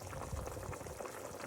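Broth boiling with sotanghon noodles in it, a soft, steady bubbling simmer that stays faint and continuous throughout, heard alone with no talk.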